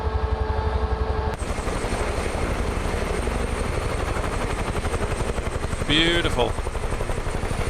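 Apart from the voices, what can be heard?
UH-1H Huey helicopter from video game Microsoft Flight Simulator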